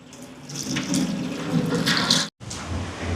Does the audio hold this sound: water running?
yes